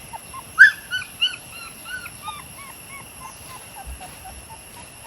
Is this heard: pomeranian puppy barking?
yes